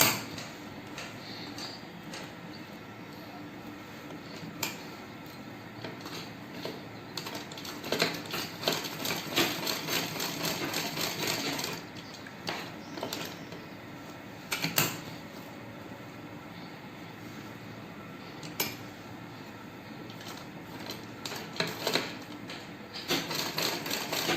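A vintage Butterfly sewing machine stitches steadily at close range, its rapid needle clatter running in bursts with brief pauses and speed changes, and several sharper clicks along the way.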